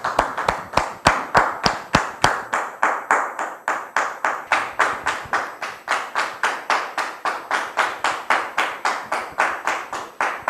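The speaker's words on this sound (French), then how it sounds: "Merci de recevoir la sœur Kofi Cynthia sous vos applaudissements" An audience greets a guest named Sister Kofi Cynthia with rhythmic clapping in time, regular sharp claps repeating at a steady beat, fairly close and unbroken throughout.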